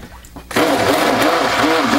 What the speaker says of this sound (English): Rinse my stick blender off